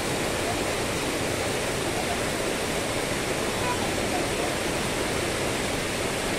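Water at a stream rushes continuously in a close, dense roar, steady and unbroken throughout.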